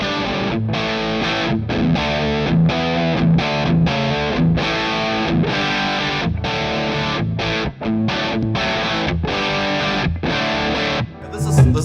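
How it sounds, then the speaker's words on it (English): Heavily distorted electric guitar through a distortion pedal, without a compressor, playing chords in a steady rhythm, loud and dense, with brief pauses between strums. "Should we also give that a go with the distortion?"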